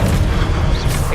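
A Hogwarts Legacy Expelliarmus spell goes off in a single loud, booming magical blast that fills the moment with heavy low rumble and no speech.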